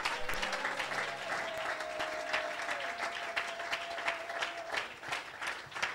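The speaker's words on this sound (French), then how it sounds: "Est-ce qu'on peut acclamer encore très fort le Seigneur?" A congregation applauds and cheers in a worship service, steady dense clapping throughout with a sustained tone and scattered voices mixed in, moderately distant.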